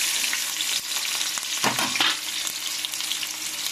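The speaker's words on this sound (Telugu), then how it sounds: "ఇప్పుడు ఆనియన్స్ వేసుకుందాము." Onions hiss and crackle in a hot frying pan, a close, steady sizzle with a sudden louder burst partway through as they hit the oil, no voices present.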